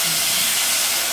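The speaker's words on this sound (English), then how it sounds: "So my pot is already hot. I will put in my pepper," Peppers dropped into a hot pot for a samosa filling, bursting into a loud, dense hiss of sizzling that holds steady for about a second, close and with no talking.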